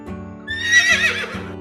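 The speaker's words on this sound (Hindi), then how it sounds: "पूंछ खींचते ही घोड़ा जोर से चिल्लाने लगा।" A horse neighs loudly after its tail is yanked, one long shrill whinny rising over a steady musical backing with rhythmic low beats.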